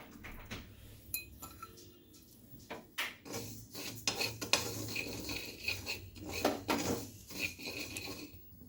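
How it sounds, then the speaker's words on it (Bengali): Moong dal is dry-roasted in a pan on the stove, heard as soft rustling and scraping with sharp metallic clinks of a spoon against the pan, irregular and fairly quiet, close by. "এবার আমি মুগ ডালটাকে ভেজে নেব।"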